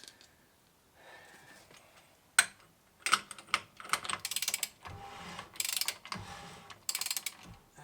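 The electric parking brake mechanism of a Land Rover Discovery being serviced, giving a series of close, quiet mechanical clicks and ratcheting whirs in short irregular bursts.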